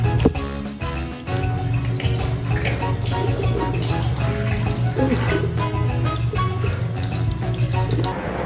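Water runs steadily from a fountain-style sink in a rest stop bathroom, a continuous loud splash with a few clinks and knocks near the start.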